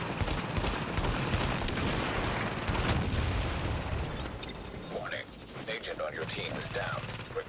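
An enemy turret in the video game The Division fires in a dense, continuous barrage that fades near the end, with a player's voice briefly audible over it.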